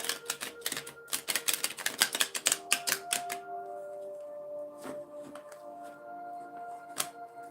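Reading cards riffled and shuffled in quick rapid bursts at close range, followed by a quieter stretch with a faint tonal background and a few isolated card snaps.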